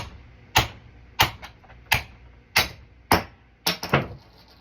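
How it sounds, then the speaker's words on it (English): A round claw hammer knocks a treadmill roller bearing out of its housing, held in a vise: six sharp metallic strikes close up at steady intervals, the last ones coming as a quick double hit, each ringing briefly. "Just using a round claw hammer for that."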